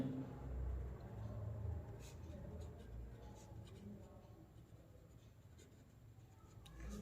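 A pen scratches across paper in a steady, continuous scrawl while working out a tangent line for a Class 12 differentiation exercise, close and fairly quiet, with faint low background hum.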